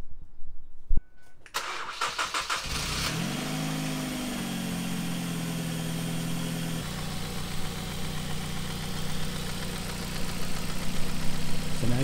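A Ford Focus ZX3 engine cranks briefly after a click and catches, then settles into a loud, steady idle that holds with a slight shift in pitch partway through; no one speaks.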